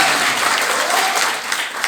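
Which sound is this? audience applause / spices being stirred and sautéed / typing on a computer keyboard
audience applause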